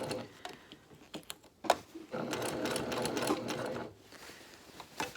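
A sewing machine stitches the final assembly of a lavender cosmetic tote, its rapid mechanical whirring running in short bursts and then one steady stretch before easing off, close and moderately loud.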